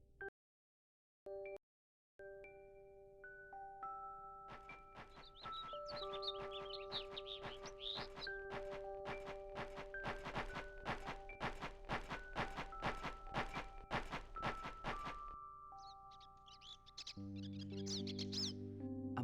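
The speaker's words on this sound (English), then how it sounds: "A migratory bird." A migratory bird in Star Ocean: Till the End of Time chirps in a fast, steady series of bright notes over soft sustained music tones.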